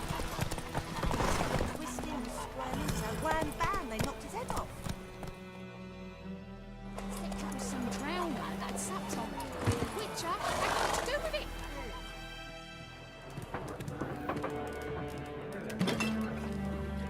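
Geralt's horse Roach in The Witcher 3 video game, with steady clip-clopping hooves and a neigh close by, layered over game music, clinking and voices talking throughout.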